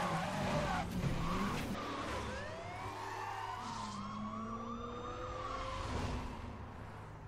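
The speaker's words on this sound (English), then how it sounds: "a nitrous burnout" Tires screech through a nitrous burnout in Need for Speed Most Wanted (2012), with a loud, continuous engine roar and long squealing sweeps over a wailing police siren.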